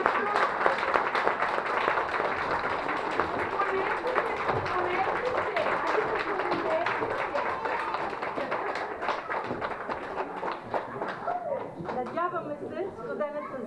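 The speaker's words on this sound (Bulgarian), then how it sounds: "Първо искам едни мощни аплодисменти за малките деца." Audience at a kindergarten event applauding small children, a steady dense wash of clapping lasting throughout, with chatter and voices mixed in and talk emerging near the end.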